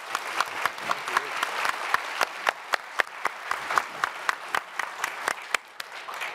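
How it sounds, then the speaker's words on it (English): Symposium audience clapping for a panel, sparse and uneven with distinct individual claps standing out sharply above a softer patter of hands, steady for several seconds. "would you please join me in giving a round of applause to these panelists?"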